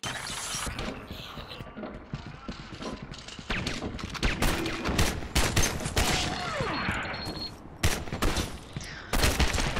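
Rapid bursts of gunfire in the video game Gotham City Impostors crack repeatedly with mechanical clatter and shattering, loud and close, in irregular volleys.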